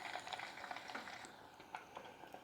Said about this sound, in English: Look at them frying away.